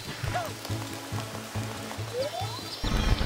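Rain falls in a soft steady patter behind a rhythmic musical backing, with a few sliding electronic effects and a louder burst at the end.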